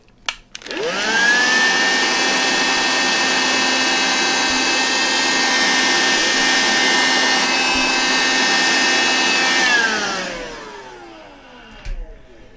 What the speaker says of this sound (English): Vacuum cleaner coming out again.